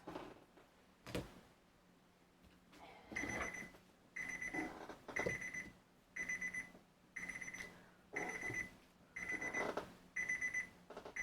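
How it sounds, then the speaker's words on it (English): A camera timer alarm beeping in repeated bursts of rapid electronic beeps, about seven groups spaced roughly a second apart after a couple of quiet knocks, fairly faint and with no talking. "That's my timer on my camera."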